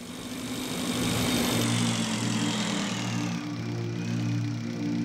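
Motorbike engine in the video game Breathedge, a steady droning hum that holds at a constant pitch throughout, fairly loud and with no talk over it.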